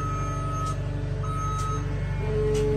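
A skid steer moving demolition concrete at a home building site in the high Sierra gives out steady reversing beeps, repeating evenly over a loud, constant diesel engine rumble, with no talk.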